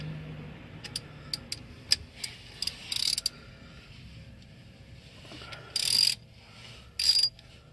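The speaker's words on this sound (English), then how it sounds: "Stick my socket in there." A socket wrench ratchets on the oil drain plug of a 2015 Mitsubishi Lancer Evo X GSR, giving sparse close ticks and a few short, louder bursts of clicking, with no speech.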